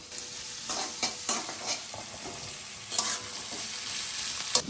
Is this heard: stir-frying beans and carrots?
yes